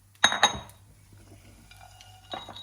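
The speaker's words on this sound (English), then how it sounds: "I will switch off the gas and I will transfer it in a bowl which I have kept ready" Toasted date mixture scraped from a pan into a bowl, with two sharp metallic clanks of spoon on pan up front, then softer scraping and a final clink, close and alone.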